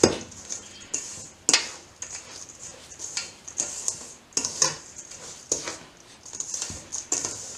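Rava cookie dough with vanilla is mixed by hand in a bowl, with irregular soft clinks, taps and scraping pats repeating close by, with no talk.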